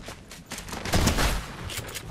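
Shotgun blasts ring out in a battle royale shooter match, several heavy booming shots in quick irregular succession among scattered distant gunfire, fairly loud with no talk over them.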